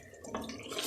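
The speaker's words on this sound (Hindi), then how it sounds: "ये 1 कप मैंने पानी डाला है, सिर्फ 1 कप ये वाला" A cup of water is poured into a pan of fried chicken cooking with pumpkin, a brief close splash that builds into a hissing rush over less than a second.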